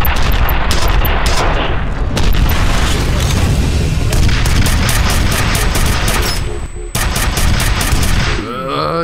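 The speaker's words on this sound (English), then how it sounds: "Dodge the rockets!" Dense rocket explosions and rapid gunfire in the shooter F.E.A.R. pound continuously and loudly, with booming impacts and rattling bursts layered together, ending in a sharp final report and fading rumble.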